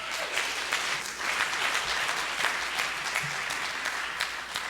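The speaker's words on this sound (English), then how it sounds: "it's great to get the applause from the audience" A convention audience applauding steadily, dense continuous clapping from a large crowd indoors, sustained at an even, fairly loud level throughout.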